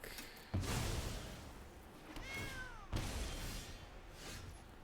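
A digital cat meows once as a sound effect in the card game MTG Arena. The meow is a clear, drawn-out call rising above soft game ambience, with brief whooshing effects before and after.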